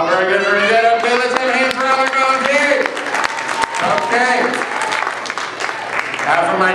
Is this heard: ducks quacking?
no